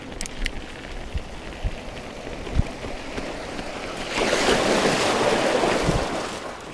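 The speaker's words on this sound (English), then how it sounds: "Another river splash, wash off that mud." A mountain bike ploughs through a high-running, snowmelt-swollen river on a Peak District trail near Sheffield, a rushing splash of water surging up after a few light knocks and holding for a couple of seconds.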